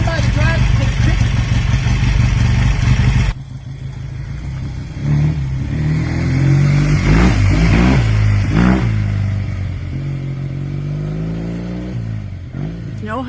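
A classic motorcycle revs loudly, then pulls away down a driveway, its engine note rising and falling as it rides off, with people talking nearby.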